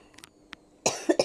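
A few soft, quiet sounds, then a burst of three harsh, close coughs in quick succession.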